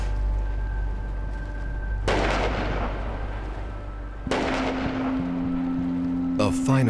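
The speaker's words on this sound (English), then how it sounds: "A final salute from the cannons on the shore." Shore cannons fire a salute as a boat sets off. Two heavy booms ring out, each with a long rolling decay, over wind noise and a steady tone that sounds like a motor.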